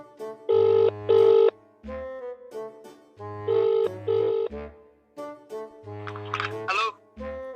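A telephone rings with a melodic electronic tune in repeated bursts: paired tone blocks, then short gaps, then a brighter trill near the end. The ringing is clear and alone, with no talking.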